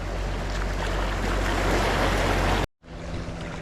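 A boat passes close to a rocky breakwater, a loud continuous rush of engine and churning water that cuts out abruptly near the end, then resumes more faintly.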